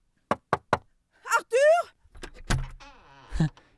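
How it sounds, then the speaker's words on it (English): A looped recording of a woman knocking, played back through a speaker, gives three sharp, evenly spaced knocks followed by her voice in another language. "I have this loop of this knocking lady lined up."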